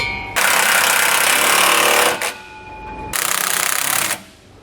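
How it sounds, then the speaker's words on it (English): A power tool rattles loudly in two hammering bursts while tightening rear anti-sway bar hardware on a 2018 Mercedes-Benz, with a short quieter pause between them and no voices. "We can now go back and tighten down and torque all of our hardware."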